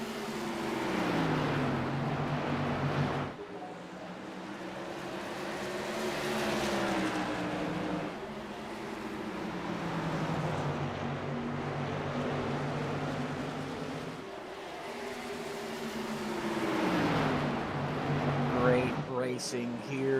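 Race car engines drone in the iRacing video game as a pack runs nose to tail, their pitch sweeping up and down through gear changes at moderate volume, with a voice heard at times.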